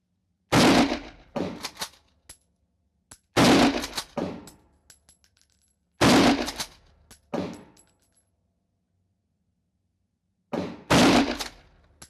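Rifle shots fired at a moving target during shooting practice, four separate loud sharp cracks spaced a few seconds apart, each followed by short echoing tails and reports fading into quiet.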